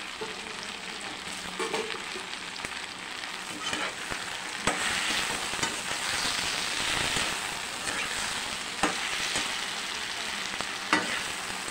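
Chopped capsicum sizzles steadily in a hot pan for sambar, a dense crackling fry with occasional scrapes and clacks from stirring, heard close and continuous without any talking.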